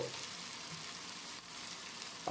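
Turmeric and chilli powder frying with softened tomato in a pan for pomfret curry, a steady soft sizzle with faint scraping as the mixture is stirred, alone and close.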